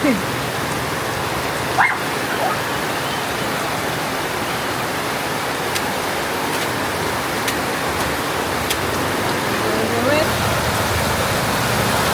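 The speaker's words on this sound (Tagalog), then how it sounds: "The rain is over." Steady heavy rain pours down outside a house, a loud continuous hiss throughout, with a dog barking faintly and brief voices in the background.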